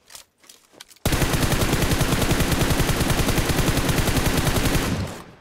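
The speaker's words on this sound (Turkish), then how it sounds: "Bayağı bir vurdum aracına." Sustained automatic gunfire aimed at a vehicle in the mobile shooter PUBG Mobile, a loud rapid burst of evenly spaced shots running about four seconds after a brief quiet start, then cutting off.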